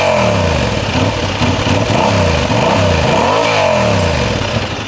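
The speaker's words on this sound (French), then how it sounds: "Je vous fais écouter le bruit de l'échappement." A 2023 Honda CB750 Hornet motorcycle revs its exhaust hard and repeatedly, the engine note swooping up and down in loud, close, sustained bursts with a deep low end that climbs to a sharp high pitch.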